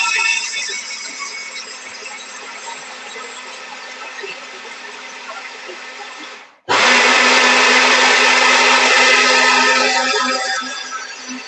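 A countertop blender whirs loudly and steadily as it mixes pancake batter with baking powder. It cuts out briefly, then restarts even louder and runs continuously before easing slightly at the end.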